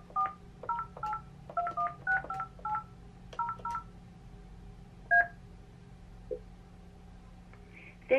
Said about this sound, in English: Now I'm going to start dialing a different number.